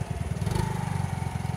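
A Maestro Edge scooter engine runs after a half-engine repair, idling with a rapid, even putter that is close and fairly loud, with a faint mechanical clatter over its rhythm.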